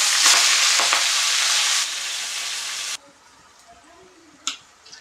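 Spinach and potato for palak batata bhaji frying in a spoonful of oil in a pan. A loud, dense sizzle suddenly drops to a faint simmer, followed by a single metallic clink. No one speaks.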